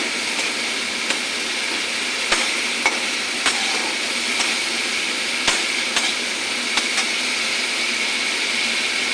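Spices for a lentil and fish-head dish sizzle steadily in a pan, a constant frying hiss with occasional sharp clicks of stirring, close and moderately loud with no talk.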